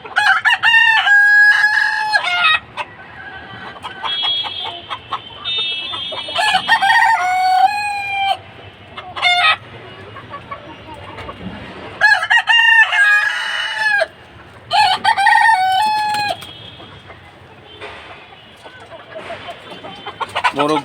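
Sonali hybrid roosters on a small rooftop flock crow loudly and repeatedly in long, rising calls, with hens clucking between crows and a faint voice in the background.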